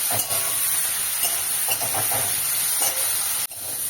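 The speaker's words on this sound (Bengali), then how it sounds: "বেগুনটা আমি এবার একটু লাল লাল করে ভেজে নেব" Eggplant sizzles and hisses as it fries in a pan with turmeric for a Bengali drumstick-flower dish, with steady crackling and occasional stirring scrapes, close up, ending abruptly.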